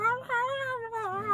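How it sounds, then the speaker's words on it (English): Feral cats fighting outside on a cold night, a drawn-out, wavering harmonic yowl with rising and falling pitch, fairly loud and continuous for over a second. "I think feral cats are fighting outside because I just heard this"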